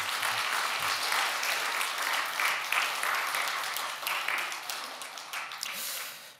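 A church congregation claps together in sustained, dense applause that keeps going for several seconds and tapers slightly near the end, filling a large room.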